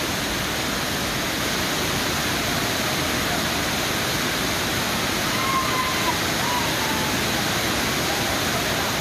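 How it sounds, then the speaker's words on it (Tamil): Hogenakkal Falls roars as a steady, loud, unbroken wash of falling water that fills the whole stretch without letup. "5 அருவி, சினி அருவிகளில் கொட்டும் மிதமான தண்ணீரில் குளித்து மகிழ்ந்தனர்."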